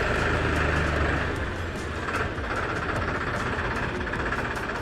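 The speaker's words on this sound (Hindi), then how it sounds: "ट्रैक्टर भी आ रहा है, अब लगेगा ये साइड में ट्रैक्टर" A tractor engine rumbles steadily as the tractor is brought in and parked at a farm home, a loud low drone with slight shifts in pitch and no talking.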